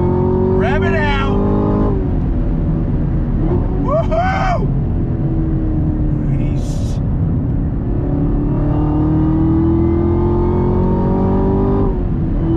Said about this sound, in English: God, the freaking thrust from that supercharged V8.